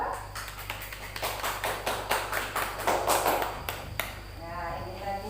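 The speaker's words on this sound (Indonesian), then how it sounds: "boleh tepuk tangan untuk kelompok 2" A classroom of students claps for a student group after a presentation. A few seconds of fairly soft, uneven clapping fade toward the end, and a faint room hum runs underneath.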